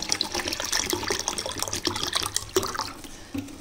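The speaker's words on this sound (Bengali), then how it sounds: "তারপর দেখো এর মধ্যে জল দিয়ে দেবো।" Water poured into a pot of soaked, washed mixed lentils, a steady close splashing gush with bubbling, running the whole time.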